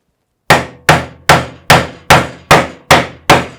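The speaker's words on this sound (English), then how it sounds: "you might actually need to give it a little bit of help with the hammer" Hammer blows drive a piece into a hole on the side of a DIY tool box, eight sharp, evenly spaced strikes ringing out loud and close with nothing else around them.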